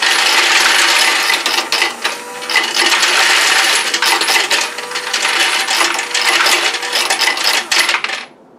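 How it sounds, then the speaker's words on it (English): Brass ammunition casings pour steadily from an automatic casing feeder into a tube, a dense loud metallic rattling and clinking that runs continuously for several seconds before stopping abruptly. "the final thing I'm going to let you see is it fill up the tube here with casings"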